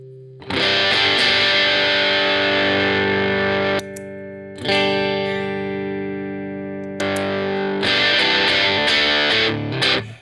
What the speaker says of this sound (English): let's kind of boost the gain a little bit to see what we've got on tap here